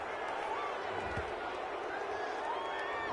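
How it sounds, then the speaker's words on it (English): A football video game's stadium crowd roars steadily after a penalty call, a dense, continuous wash of voices with a few thumps, while a commentator's voice talks over it. "Oh, this crowd does not like that call."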